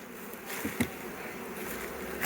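Honeybees buzzing around spring bee colonies in an apiary, a steady close hum with a few brief louder passes of individual bees near the listener.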